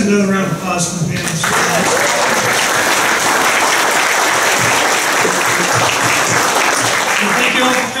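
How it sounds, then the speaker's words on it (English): Audience applause after a local history lecture on ghost towns of Copano Bay, a sustained dense round of clapping filling the room, with a voice briefly heard at the start. "Let's have another round of applause for Ben."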